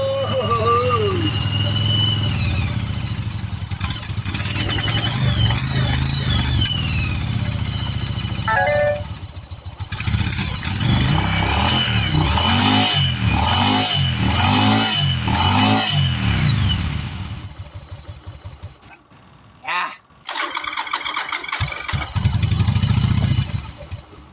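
A 1996 Yamaha Virago 1100 motorcycle engine is choked, started and revved, roaring up and down in repeated loud bursts close by before settling, with a voice talking over it in places.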